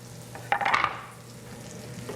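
Chopped shallots hit melted butter and oil in a pan, giving a brief burst of close sizzling that quickly settles into a low, steady frying hiss.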